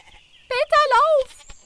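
A lamb in a children's cartoon about Heidi bleats in a few wavering, nasal cries that rise and fall, loud and close, between quieter stretches of background.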